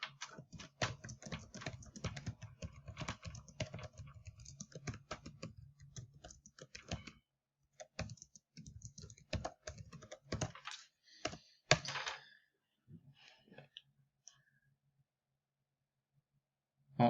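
Typing on a computer keyboard during an online class, with quick bursts of soft clicking keystrokes, pauses between flurries, faint and close, trailing off into sparse taps and silence.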